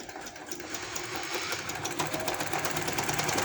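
A sewing machine stitches the side seams of a lehenga, a steady rapid mechanical whirring and ticking that runs continuously at moderate level with no talking.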